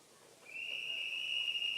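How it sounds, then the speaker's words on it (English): A referee's whistle sounds one long, steady, piercing blast before a springboard heat at the STIHL Timbersports German Pro Championship, clear and sustained with no talking. "whistle blast coming up here"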